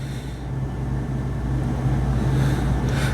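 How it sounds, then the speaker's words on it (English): Dash air conditioning of a 2008 Winnebago Outlook 31C Class C motorhome blowing steadily at idle, a continuous broadband rush of airflow over a low engine drone, close and fairly loud with no talking. "we're blowing actually right at freezing out of the dash air at idle"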